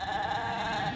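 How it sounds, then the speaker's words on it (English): A freshly sheared sheep separated from its lambs in Peak District countryside gives a single sustained bleat, fairly faint and heard alone. "the sheep have been sheared today and separated from their youngsters"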